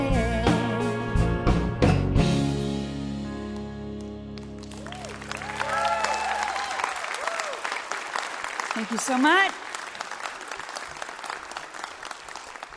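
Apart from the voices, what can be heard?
applause from a large live crowd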